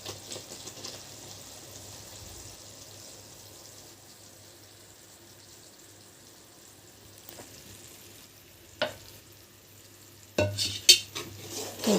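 A thick Mysore Pak mixture of ghee and gram flour being stirred in a pan, with a soft continuous sizzle and scraping, then louder clinks and spoon knocks against the pot near the end.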